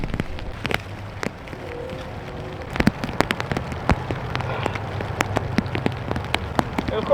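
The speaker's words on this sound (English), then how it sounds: "You can hear the rain coming now," Heavy rain patters on a tarp shelter in the woods, a steady hiss of drops punctuated by frequent sharp, close taps of larger drops hitting the fabric.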